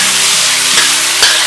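Shiitake, carrot and wood ear mushroom stir-fry in a hot wok with red pepper, giving a steady, loud sizzle and crackle with soft spatula scrapes throughout, and no talking.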